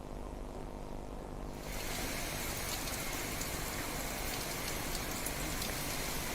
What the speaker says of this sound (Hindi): बंधवाल अंचल में आज सका घड़घड़ी सह प्रबल वर्षा और पवन होइछि।